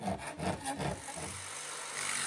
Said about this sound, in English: Here I'm cutting a relief area for the 1/8-inch fuel nipple to fit into.